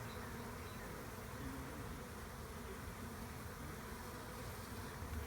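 Honey bees swarm in a dense, steady buzz while clustering into a bee beard on a person, a faint, even drone with no talk.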